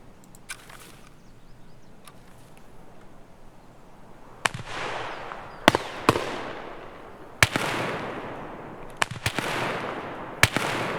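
Gunfire from players fighting in Escape from Tarkov, sharp distant shots in scattered bursts: a few faint cracks early, then louder single and double reports with echoing tails over quiet ambience.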